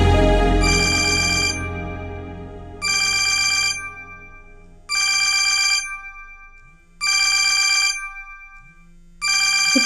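A mobile phone ringtone plays loud and clear in repeated bursts of a bright melodic tone, about five rings separated by short pauses, with no talking.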